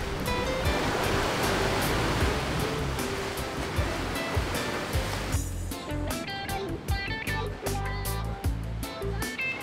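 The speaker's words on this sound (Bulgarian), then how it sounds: "имаше много силно вълнение и вероятно нивото на водата се е било покачило драматично" Strong sea waves surge and crash at the entrance to Neptune's Grotto in Sardinia in very rough water. A dense, continuous roar of surf and spray runs throughout, loud and close, easing slightly into churning splashes.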